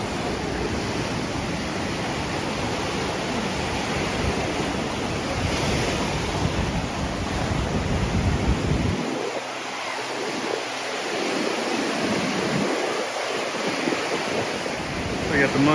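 Steady broadband surf from ocean waves washing onto a beach at Hua Hin, Thailand, on a morning walk, with wind buffeting the microphone and a few low rumbles from passing steps or gusts.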